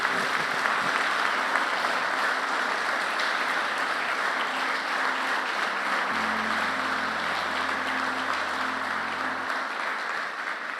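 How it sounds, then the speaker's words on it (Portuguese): A church congregation applauds, a dense, sustained wash of clapping at steady volume throughout, with a low organ or keyboard tone holding underneath. "dá uma salva de palmas para Ele"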